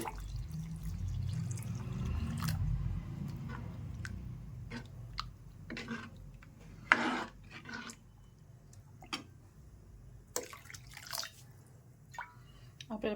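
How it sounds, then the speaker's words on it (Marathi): Hot water is poured into a village-style sorrel leaf curry (ambat chuka bhaji) seasoned with turmeric powder: a soft, low pouring splash at first, then faint drips and kitchen clicks while someone talks. "आणि थोडंसं गरम पाणी टाकू आवश्यकतेनुसार गरम पाणी टाकायचं"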